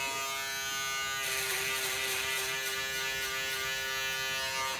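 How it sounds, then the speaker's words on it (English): Electric foil shaver buzzing steadily and close up while taking hair down to the skin on a haircut fade, a continuous unbroken drone that gets a little louder and brighter partway through, with no talking. "I'm gonna use my foil shaver. My foil shaver is gonna get it down to skin"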